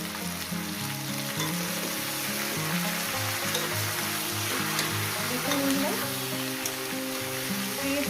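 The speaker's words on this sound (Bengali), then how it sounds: "এবার আমি ভাজবো শুধু সবজিটাকে শুধু ভাজবো" Snake gourd with turmeric sizzles in hot oil, a steady close frying hiss with faint stirring, while a voice talks over it.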